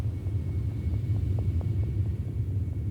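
A deep, muffled thunder rumble heard from below the ocean surface, a steady low roar with faint repeated soft thuds, continuous and distant-sounding.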